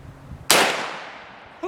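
One loud, close rifle shot from a Henry rifle firing a mid-power round offhand at a target 25 yards out cracks sharply and decays over about a second, followed by a short metallic ring.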